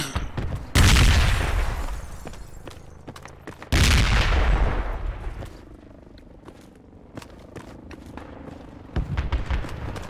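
Frag grenade explosions on a mosque roof in the downtown battlefield of the game Project Reality: two heavy, loud booms a few seconds apart, each trailing off into a long rumbling decay, followed by scattered distant gunfire.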